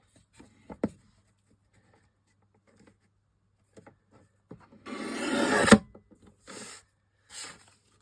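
A trimmer shaves material down: a few soft clicks and taps, then one loud rasping slide lasting under a second, followed by two short, quieter scrapes.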